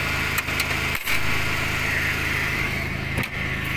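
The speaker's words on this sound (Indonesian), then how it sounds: "Ini mesinnya bergerak." A 1985 Suzuki Swift hatchback engine idles steadily up close, a constant buzzing hum with a few brief knocks and bumps over it.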